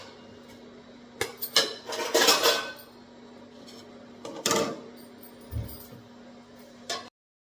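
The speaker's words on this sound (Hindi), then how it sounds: "तो रात में बर्तन वगैरह वॉश करके रखे हुए थे, तो वो सब बर्तन यहाँ पर अभी उनका सेट कर देते हैं।" Washed dishes and utensils are set out in a home kitchen, with a series of metallic clanks and clatters of pots, plates and cutlery in short bursts separated by pauses, close by, with no talk.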